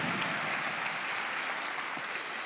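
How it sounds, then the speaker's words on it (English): Steady, dense applause from an audience at a Special Olympics USA Games volunteer orientation, filling the whole stretch at an even level with no voice over it. "can we all give Lonnie a round of applause?"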